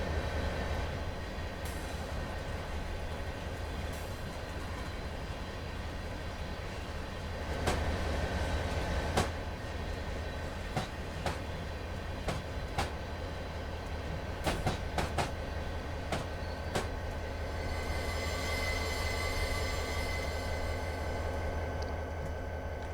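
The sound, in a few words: train with boxcars moving in video game Train Simulator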